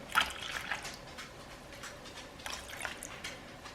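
Water trickles and splashes into a bowl while measuring about 350 grams for sourdough bread dough, an uneven close pour with dribbles and drips, fairly quiet, with no talking over it.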